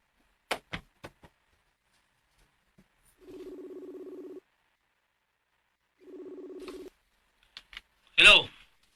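A telephone call being placed, with two sustained ringback tones separated by a pause, preceded by sharp clicks and followed by a short voice burst.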